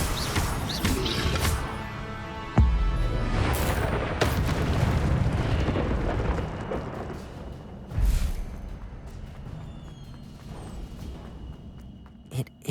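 A fire spell bursts out in Hogwarts Legacy, a booming blast with a sharp onset, followed by a rumbling, crackling roar that slowly fades, with a second thud later on.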